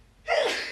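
A single sharp sneeze bursts out close to the microphone, a brief breathy explosion lasting under a second after a moment of quiet.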